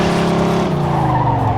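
A car in the video game Mafia II skids as it fails to turn: a loud, continuous engine roar with drawn-out tire squeal running throughout, no voices.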